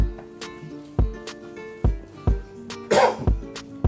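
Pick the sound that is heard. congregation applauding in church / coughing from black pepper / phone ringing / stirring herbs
coughing from black pepper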